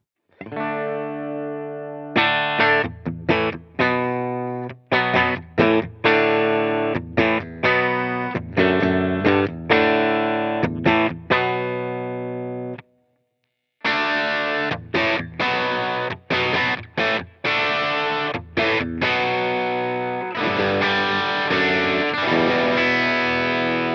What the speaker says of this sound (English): I'm going to play on the bridge pickup first, and then I'll start adding in some external overdrives